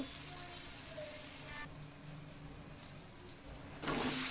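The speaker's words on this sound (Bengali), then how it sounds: "এখন সবজিগুলো ভেজে নেব" Vegetables fry in a pan with a steady, soft sizzle, joined near the end by a louder, brighter hiss as more food or liquid hits the hot oil.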